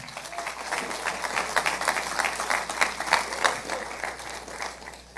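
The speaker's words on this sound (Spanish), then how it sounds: "Dale un aplauso al Señor" A church congregation applauds during a sermon, a dense wash of many hands clapping at moderate loudness for several seconds, with no speech.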